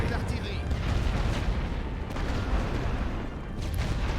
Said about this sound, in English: so I'm going to artillery barrage them